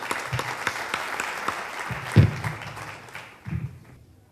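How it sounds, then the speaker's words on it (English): Steady applause from a JITO gathering audience fills the room, a broad wash of clapping that holds, swells briefly, then fades away toward the end. "Big round of applause."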